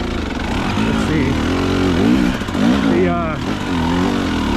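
Dirt bike with a new zero resistance throttle tube, its engine revving up and down in repeated bursts close by, while someone talks over it.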